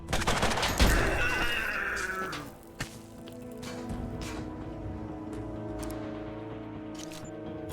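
Gunfire in the PC game Mutant Year Zero: Road to Eden, a dense, loud burst of rapid shots over the first couple of seconds that fades into a lower, steady game ambience.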